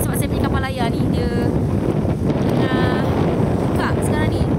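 Steady, loud wind roars across the microphone on a sailing boat with its sail open at sea, a continuous rush with some whistling tones rising and falling, and no voice cutting through.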